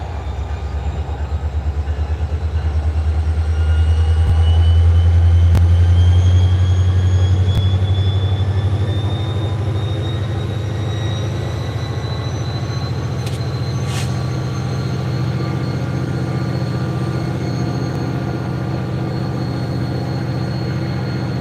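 A CSX freight train rolls past at trackside, a loud low rumble of wheels and cars that swells then holds steady, with faint metallic squeals riding over the continuous roar.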